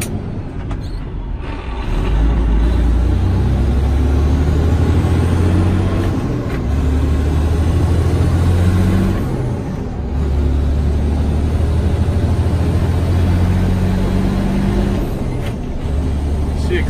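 A 2009 Freightliner Cascadia 125 truck engine accelerates, a loud, close, steady low diesel drone that holds from start to finish, dipping briefly around the midpoint before resuming.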